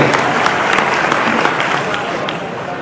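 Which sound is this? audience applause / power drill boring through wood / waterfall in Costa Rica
audience applause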